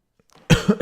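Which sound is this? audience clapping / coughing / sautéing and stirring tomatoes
coughing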